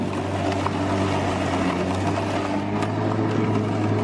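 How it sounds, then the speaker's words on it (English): Sun Joe MJ401C-XR 14-inch cordless electric lawn mower running outdoors, a steady close motor hum with whirring blade noise that holds constant throughout. "you can hear it's actually running right now"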